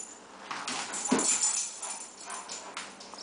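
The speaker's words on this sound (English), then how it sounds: "The Great Dane chasing the flashlight." A Great Dane chasing a flashlight beam lets out a few high, thin whimpers and yips, close and fairly soft, in short breathy bursts with no talk.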